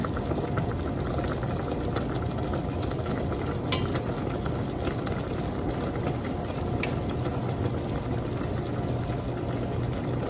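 Cranberries cooking down in a pot are stirred and mashed with a potato masher, giving a steady, close bubbling and simmering wash with soft scraping and stirring texture throughout.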